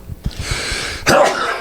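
A single sharp human sneeze or hacking burst, close and loud, preceded by a brief sharp inhale, with no talk.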